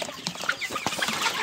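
Young chicks in a warm covered brooder cheep in a dense, overlapping chorus of short, high chirps, close by with no voices.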